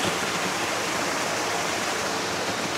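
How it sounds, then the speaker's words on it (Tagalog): Mahiwaga Falls, a waterfall in Cavite, roaring as a steady, dense rush of falling water that fills the whole scene without a break. "Mahiwaga Falls."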